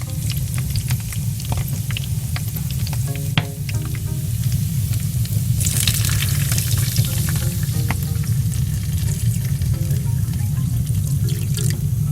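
Water poured into a pan of food frying dry on a home stove, a steady loud sizzle with stirring scrapes and a brighter hiss surge as the liquid hits the hot pan, continuous throughout.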